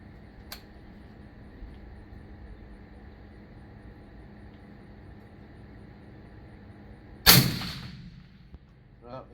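A single loud, sharp rifle shot from an LMT MWS in 6.5 cracks close by, then decays with a brief echo over a quiet, faintly humming outdoor range.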